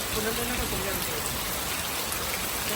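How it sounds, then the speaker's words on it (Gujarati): Steady heavy rain hisses continuously outside a house, a dense even patter on surfaces with no breaks, with faint voices murmuring underneath. "તો બહાર તો વરસાદ બરાબર નો ચાલુ થઈ ગયો છે"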